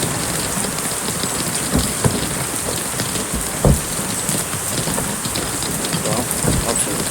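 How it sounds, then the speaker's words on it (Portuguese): Heavy rain pours during a storm with strong winds in Machado, southern Minas Gerais, hissing densely and loudly on surfaces nearby, with a few sharper drop impacts and no clear thunder. "Tem que ficar aqui até a chuva parar"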